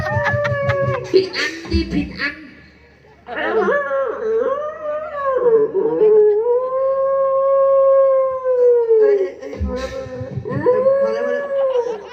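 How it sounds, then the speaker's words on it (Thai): A dog howls in long, wavering, rising and falling cries, loud and close, breaking off briefly and then resuming, with some voices in the background. "ทำไมหมาถึงหอน"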